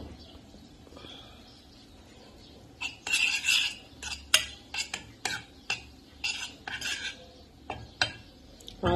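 A spoon stirs flour through hot oil in a pan for béchamel, giving a run of close, irregular scraping and clinking strokes that starts after a quiet opening and keeps going to the end.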